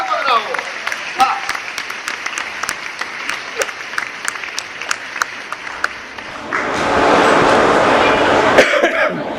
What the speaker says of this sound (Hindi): एक बार जोरदार तालियां बजाते बच्चे के लिए।